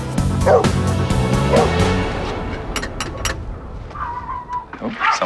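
Small Chihuahua puppy yips and barks in short bursts up close, with a few whimpery squeaks, settling after a couple of seconds before a last high-pitched yelp, with faint household background.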